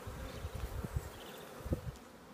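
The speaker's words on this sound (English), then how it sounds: "Absolutely overflowing with bees." Low, steady buzzing of many bees close by in an overflowing beehive, a dense droning hum with small swells in loudness and no voices.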